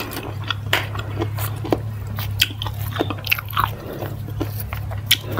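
Close crunchy bites and wet chewing of Luang Prabang-style papaya salad with baked pork ribs, with irregular crisp snaps throughout.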